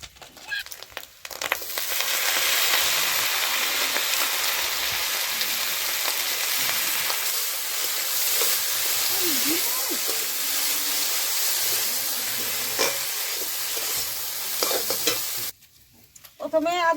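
Potatoes and bitter gourd frying in a pan with onion and green chili, a loud, steady sizzle with stirring scrapes that runs almost without a break before cutting off near the end.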